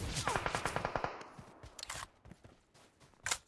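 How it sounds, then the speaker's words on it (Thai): Automatic gunfire in the PUBG Mobile video game on the Vikendi map: a rapid burst of about a dozen evenly spaced shots, followed by a few scattered louder cracks and a final sharp shot. "มันมีเสียงปืนด้านขวาก่อนนะเนี้ยระวังนะ"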